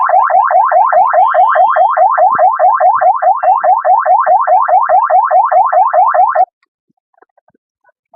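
A hydraulic car horn blares a loud, rapidly repeating warbling tone for about six seconds, then cuts off abruptly, leaving near silence with a few faint clicks.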